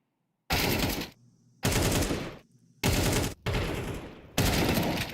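Long, loud bursts of automatic gunfire from Counter-Strike 2 during a professional esports playoff match, five sustained volleys with short gaps, close and dominant, with no commentary heard over them.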